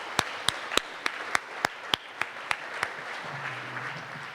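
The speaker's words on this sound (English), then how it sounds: "let's give Carson a round of applause" Sparse applause at an awards ceremony, with a dozen or so distinct, evenly spaced claps standing out over softer scattered clapping that fades toward the end, where a faint low tone appears.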